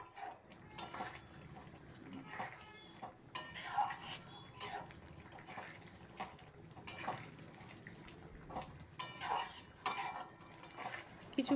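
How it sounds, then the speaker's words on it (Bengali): Cholar dal with sugar stirred in a metal pot: a spoon scrapes and clinks against the sides in irregular bursts, with soft liquid sloshing, close and fairly quiet. "চিনি দিয়ে কিছুক্ষণ নাড়াচাড়া করব এটার সাথে ভালো করে, যাতে চিনিটা মিক্স হয়ে যায়।"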